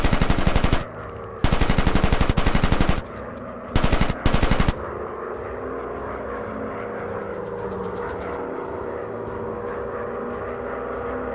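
WWI bombers fire machine guns in the VR dogfighting game War Planes, at night: several loud, rapid bursts of gunfire, then a steady drone of aircraft engines.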